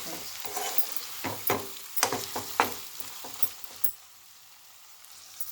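Chicken pieces with salt are stirred in a frying pan, a busy sizzle broken by repeated scraping, clattering strokes of the spoon that stop near the end, leaving a faint hiss.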